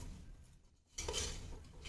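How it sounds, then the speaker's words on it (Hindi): A spoon scrapes and clinks in a pot as pav bhaji ingredients are stirred together, a quiet stretch followed by a burst of louder mixing noise, close and without talk. "अब हम सारी चीज़ों को मिक्स कर लेंगे"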